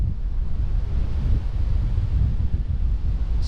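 Ocean swell and surf at Lucky Bay on the Western Australian coast south of Kalbarri, a steady broad roar of waves with heavy wind buffeting the microphone throughout, no voices.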